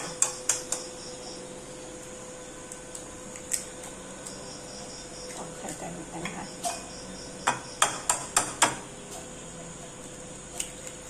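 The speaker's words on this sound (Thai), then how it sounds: "ค่อยๆตอกนะเดี๋ยวไข่แดงแตกนะคะ" Eggs being cracked one by one into small cups holding a little water, for oil-free fried eggs; a close, irregular series of sharp taps and clicks with light clinking, and no talking.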